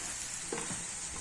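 Masala sautés in tempering oil for stuffed brinjal curry, a dense close hiss of frying with one faint stirring scrape partway through.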